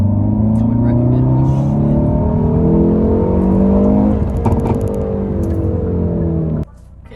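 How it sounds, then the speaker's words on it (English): A manual-transmission car engine revs hard during a launch as the clutch is released, with rising and falling pitch, loud and close, then cuts off abruptly near the end. "I just revved up the RPMs and slowly released the clutch."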